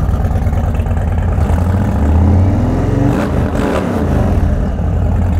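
A custom Indian Sport Chief motorcycle engine rumbles loud and close, a steady low throbbing idle that swells briefly as it is revved.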